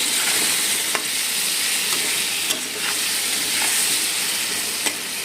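Potatoes seasoned with salt and turmeric fry in a pan, giving a steady close sizzle with a few sharp spatula scrapes and taps spaced through it, and nobody speaks.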